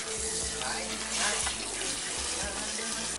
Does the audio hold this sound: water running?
yes